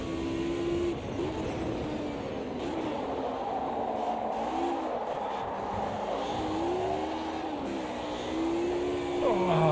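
A race car engine revving in a sim racing video game during a historic touring car race, with a continuous engine drone that rises and falls through gear changes, fairly loud and steady over background noise.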